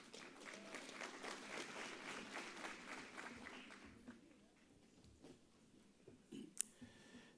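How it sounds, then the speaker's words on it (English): A graduation ceremony audience applauds the Executive Dean of the Faculty of Management Sciences, a fairly distant, steady round of clapping that dies down midway, leaving quiet room tone and a few scattered clicks. "A big round of applause for Prof"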